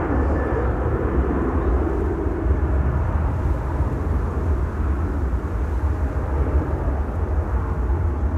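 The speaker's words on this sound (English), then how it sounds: "There's KLM flight 565, which will be going to Nairobi" KLM jet airliner bound for Nairobi at Amsterdam Schiphol Airport, a moderate, steady engine rumble with a low roar, heard at some distance and without any voices.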